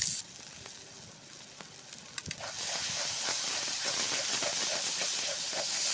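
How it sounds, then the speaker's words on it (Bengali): Water hits a hot pan of frying ground spice paste with turmeric, ginger and cumin for mutton curry on a clay stove, and a loud steady hiss and sizzle builds and holds. "মশলাটা যাতে পুড়ে না যায় সেজন্য সামান্য জল দিয়ে দিল"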